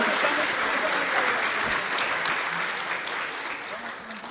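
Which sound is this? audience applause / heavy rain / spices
audience applause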